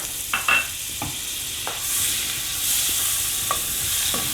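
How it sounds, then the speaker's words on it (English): Steady sizzling hiss of butter frying in a pan, with a few sharp scrapes and clinks of a utensil stirring. "in the same frying pan we're going to add this knob of butter"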